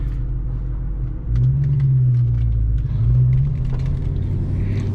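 A 1998 Ford Mustang Cobra driving, its engine and exhaust a steady close rumble that swells twice as the throttle is pressed, with a faint higher whine on top.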